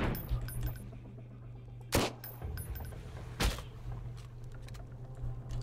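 Two sharp, isolated gunshots ring out about a second and a half apart in the survival game Sunkenland, fairly loud against a low steady hum and faint background noise, with no talking.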